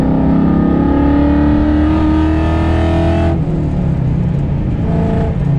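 A loud Whipple-supercharged, Coyote-swapped Fox Body Mustang engine drones steadily, then drops pitch sharply as it downshifts and begins revving back up under acceleration.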